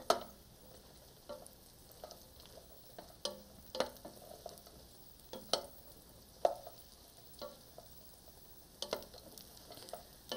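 Bread toasting in olive oil in a frying pan gives a faint, low sizzle, broken by soft scraping and tapping as the slices are pushed around at a loose, irregular pace.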